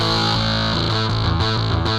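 Heavily distorted electric guitar tone from the MegaMagic Guitars plug-in, sustained and loud, with a dense buzzing chord that shifts a few times, and no voice.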